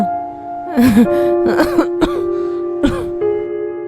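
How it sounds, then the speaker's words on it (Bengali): An elderly mother coughs and clears her throat in a series of short, close bursts, several separate hacks spread across a few seconds over a steady background hum. "তোমার তো বেশ কাশি বেড়েছে"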